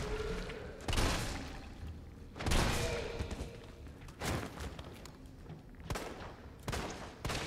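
Pistol shots fired at enemies in Resident Evil 3, an underground lab setting: five or six sharp, loud bangs spaced a second or so apart, each with a short echoing tail over a low game ambience.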